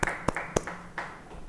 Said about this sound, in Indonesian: Yang percaya, beri tepuk tangan bagi dia.